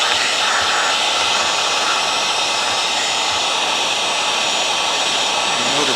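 A heat gun shrinks heat-shrink tubing over a motor plug for a washing machine motor tester, blowing a loud, steady, close-up rushing whoosh of hot air that holds unbroken with no talking.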